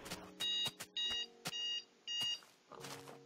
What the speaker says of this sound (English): That was a timer for the end of the episode.